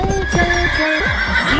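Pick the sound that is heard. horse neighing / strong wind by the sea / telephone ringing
horse neighing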